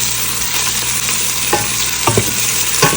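Garlic and ginger frying in a pan while being stirred, a loud continuous sizzle with several scraping stir strokes in the second half, no voices.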